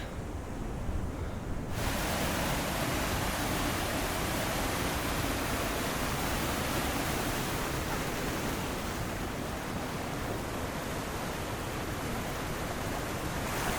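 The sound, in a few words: little waterfalls on the Rubicon Trail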